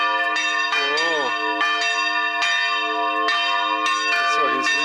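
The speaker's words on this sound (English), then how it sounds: "that's why he's ringing the bells." Church bells ring steadily at a funeral in Ukraine, rich sustained tones struck again and again in a slow irregular rhythm, loud and fairly close, with a brief voice-like warble in the background.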